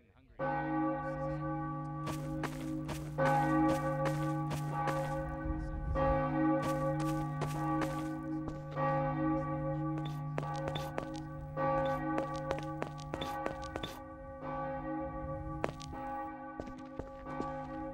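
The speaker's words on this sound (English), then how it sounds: "Oh, this is a wonderful wind chime!" A video game wind chime rings in clear metallic bell tones, layered strikes repeating irregularly over sustained ringing overtones, moderately loud and steady throughout.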